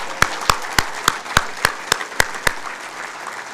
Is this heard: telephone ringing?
no